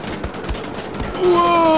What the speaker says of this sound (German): Da schießen die Zombies